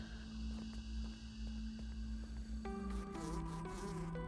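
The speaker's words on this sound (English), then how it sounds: "There's a mosquito up here." A steady, high mosquito buzz from the video game Grounded drones throughout, with a layered game-style tone shifting partway through; no one speaks.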